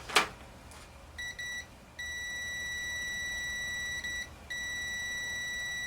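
A continuity tester beeps in steady electronic tones, a few short chirps followed by longer sustained beeps with brief gaps, fairly clear against a quiet background.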